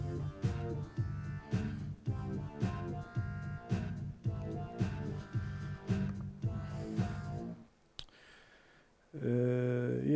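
A sequenced dance track built in Clojure plays: a steady four-on-the-floor drum beat with a repeating synth melody over it, dropping out briefly near the end before a sustained chord comes in, with no one speaking.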